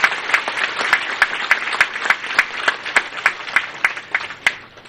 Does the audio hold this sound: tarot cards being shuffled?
no